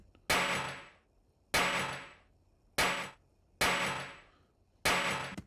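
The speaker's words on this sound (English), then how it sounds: "I've pulled this sample from Ableton. There we go, Foley Bolt" An unprocessed Foley Bolt sample from Ableton 11 plays five times: loud, sharp metallic hits with bright decaying tails, evenly spaced about a second apart with no other sound between them.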